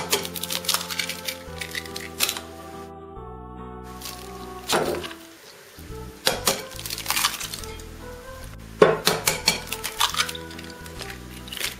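Five eggs cracked one after another into a bowl while making the dessert kaymaçina, crisp close taps and clinks on the rim with short wet drops and shell rustles between, no talk.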